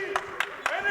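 A lone spectator at a basketball game claps three times, sharp and distinct, over a steady tone and courtside chatter.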